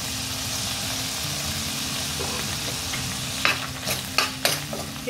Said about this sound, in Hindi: इसे थोड़ा सा सॉटे कर लेते हैं ताकि जो लहसुन का फ्लेवर है वो निकल के आ जाए